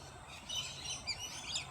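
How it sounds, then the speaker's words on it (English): Parrots give faint, scattered high chirps and calls against a steady low background hum, several brief calls overlapping over less than two seconds. "Parrots taking over everything."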